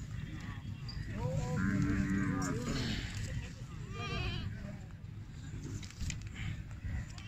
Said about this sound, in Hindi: ब्रीडर बकरे हैं जी